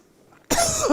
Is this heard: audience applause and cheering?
no